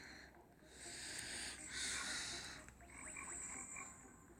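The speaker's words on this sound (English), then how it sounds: "Oh, I hear frogs somewhere." Frogs croaking in the Bee Swarm Simulator video game during a Christmas event, a soft, faint chorus of rasping calls in the background with no talking.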